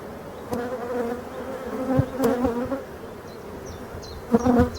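Honeybees buzz around an opened hive while the frames are shifted one by one to check brood and cells; a steady near hum of many insects swells in short bursts with faint knocks from the frames, and no talk.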